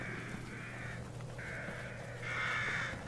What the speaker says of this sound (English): Dead person and crows or ravens, whatever they are.